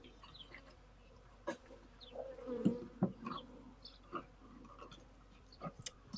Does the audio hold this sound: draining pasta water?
no